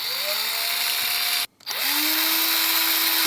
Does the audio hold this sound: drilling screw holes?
yes